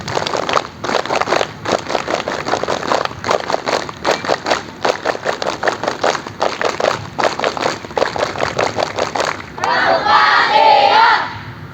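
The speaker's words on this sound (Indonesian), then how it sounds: "Tiga kali tepuk pramuka." A scout group performs the three-times scout clap at a school scouting ceremony, rhythmic patterned bursts of loud clapping with shouts, ending in a swell of crowd noise.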